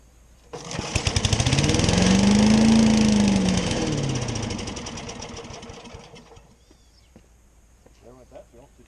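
A 1971 Billy Goat vacuum's small engine sputters to life, roars loudly for a few seconds with a rising then falling pitch, and dies away, followed by faint talk.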